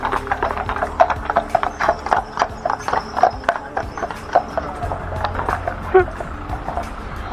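Ponies on an outdoor hill walk during a heat wave, a steady run of hoof clip-clops at moderate distance, irregular thuds and stamps as the horses scuffle, with no clear voices over it.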